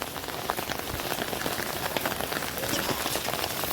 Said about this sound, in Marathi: कसं पाणी पडते बघितलं